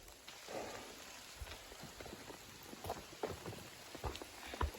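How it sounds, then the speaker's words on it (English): Rain falling on the Appalachian Trail near Dragon's Tooth, a soft steady patter with scattered louder drops landing close by, fairly faint throughout with no voices. "It's actually starting to really rain."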